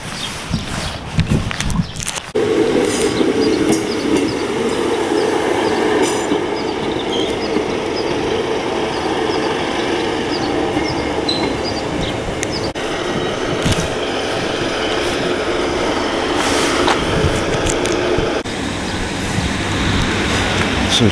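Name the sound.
train departing from Penistone railway station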